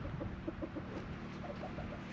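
Chickens cluck softly in short, repeated bursts, faint and somewhat distant, over a low background hum.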